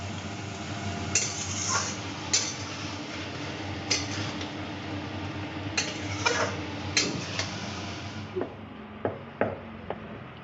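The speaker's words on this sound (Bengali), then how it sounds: "এই যে এখন লুচি বেলছি" Luchi dough being rolled out with a rolling pin on a board, giving a run of soft rhythmic knocks and scrapes. Sharper taps come near the end over a steady kitchen background hiss. Nobody speaks.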